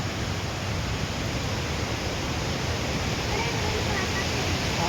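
Steady broadband rush of water at Vazhachal waterfall, low on water, fills the whole stretch at an even, unbroken level, close and continuous.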